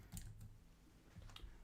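Quiet typing on a computer keyboard, a few soft, scattered key clicks in two short bursts, faint and close.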